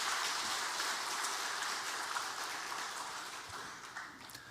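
A church congregation applauds its choir after a worship service, a soft, dense, continuous patter of many hands that slowly fades toward the end.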